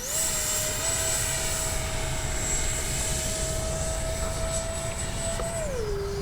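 A steady, loud engine whine from a Freewing 70mm F9F-5 Panther RC model jet passing overhead with flaps down, holding a high tone before dropping in pitch as it moves away.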